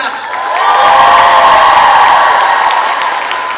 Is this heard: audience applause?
yes